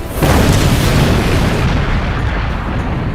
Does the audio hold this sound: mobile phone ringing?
no